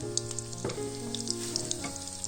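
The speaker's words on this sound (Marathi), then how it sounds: "लसणीची डायरेक्ट फोडणी द्यायची आहे" Garlic dropped straight into hot oil as a tempering for a monsoon wild-vegetable dish sizzles with a constant, crackling hiss, close and steady, with a brief stirring scrape midway and no voices.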